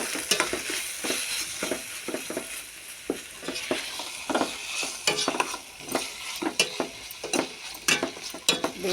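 Ginger-garlic paste sizzling in a hot pan while a spoon stirs it, steady frying crackle with repeated scraping strokes against the pan, close and fairly loud, no talking.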